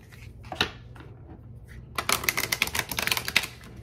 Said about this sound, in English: Let me grab you some Moonology cards here for advice.